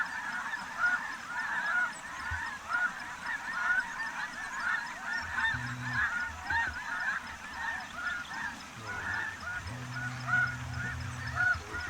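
A flock of snow geese honks steadily as the birds fly in over decoys on a spring hunt, a dense chorus of overlapping calls at moderate distance, with low rumbling and thumps beneath.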